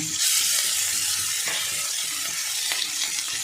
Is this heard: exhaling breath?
no